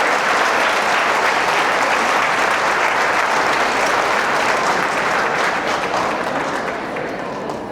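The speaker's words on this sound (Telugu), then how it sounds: "మీకు మీరే క్లాప్స్ కొట్టుకోండి" An audience claps for themselves in a long, dense burst of applause that stays loud and steady before easing slightly at the end, with no talking over it.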